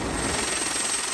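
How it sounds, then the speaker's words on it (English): A Bell 412 helicopter of the Sri Lanka Air Force during a flood rescue, heard as a loud, continuous rotor and engine roar with no pauses. "4 people trapped in the Somawati area were rescued by a Bell 412 helicopter"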